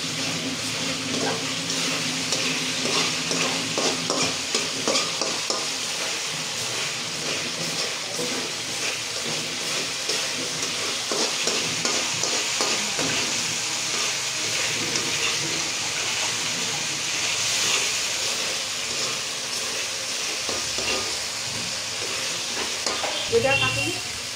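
Spices frying in a kadai while being stirred before pigeon meat is added, a steady sizzle with scraping and clinking of the spoon against the pan throughout, close and continuous.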